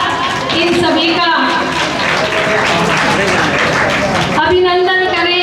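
Audience applause fills a live Hindi-language religious festival gathering, loud, dense and continuous clapping throughout with a brief dip near the end, while a voice speaks over it on a public address.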